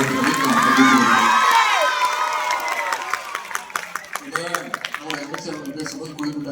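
A crowd at the Kalai Thiruvila 2025 stage event cheers and shouts loudly for a children's performance, settling into a burst of scattered applause and claps toward the end.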